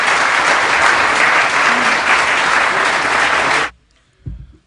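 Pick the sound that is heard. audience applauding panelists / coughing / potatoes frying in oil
audience applauding panelists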